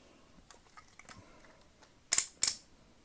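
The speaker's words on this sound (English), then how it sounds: "Hear those ratchets." The joints of a Wei Jiang Optimus Prime transforming toy give two sharp, close plastic ratcheting clicks near the end, after faint handling noises in a quiet room.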